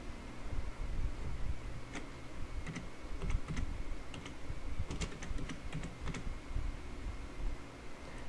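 Fingers tap out a blog title on a computer keyboard in quick irregular bursts of light close keystrokes over a faint steady hiss, with no voices.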